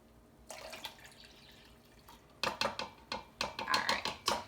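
Two cups of water pour into a microwave-safe measuring pitcher in short splashing bursts, with a brief trickle at first and then several louder, uneven pours close by.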